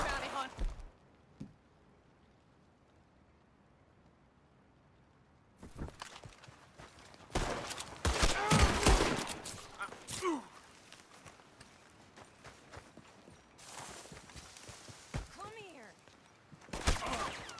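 Scattered gunshots during a Red Dead Redemption 2 shootout with a bounty hunter, arriving in a few loud close bursts after a quiet stretch, mixed with shouted talk and movement sounds.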